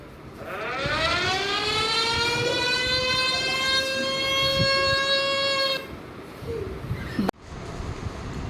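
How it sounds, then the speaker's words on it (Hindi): A civil defence siren during a school mock drill winds up and holds a long, loud rising wail for several seconds, then cuts off, followed by quieter background noise. "सायरन बजते ही आप सब हो जाएं सावधान"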